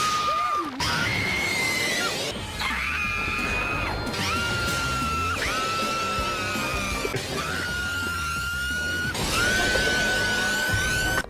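A man imitates Victreebel's scream from the Pokemon anime, letting out a long series of shrill, wavering shrieks and yells with brief breaks between them, loud and close.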